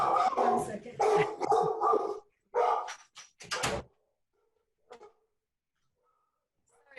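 A dog barks in a home in a burst of loud, close barks and yips, followed by a few fainter scattered sounds and long quiet gaps.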